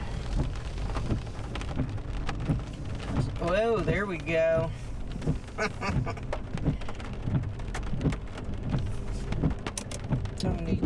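Steady rain from an East Texas rainstorm falls throughout, with low rumbling that may be distant thunder, while someone talks over it and a brief whistle-like tone rises in the middle.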